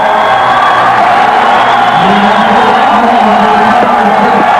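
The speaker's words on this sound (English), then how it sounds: "And listen to this crowd." A crowd at a 1989 Texas vs. Texas A&M college baseball game roars and cheers, a loud, sustained wash of voices with whoops rising through it, all at a distance.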